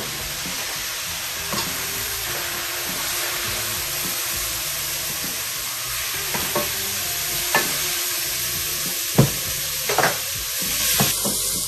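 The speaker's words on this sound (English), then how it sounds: "so just stir this around a little bit." Onions sizzle steadily in a pot while being stirred for a braised lamb shank sauce, a constant close hiss broken by a few scraping spoon knocks near the end, with no talking.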